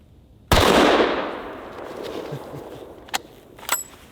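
A single sharp, loud rifle shot from a .375 H&H Magnum fired into a hillside cracks out and rolls away in a long decaying echo, followed by a couple of faint clicks or knocks.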